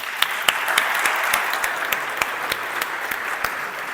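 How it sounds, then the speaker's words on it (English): Conference audience applauds the organizers with steady clapping, a few sharp individual claps standing out at close range above the general patter. "I will propose an applause for them"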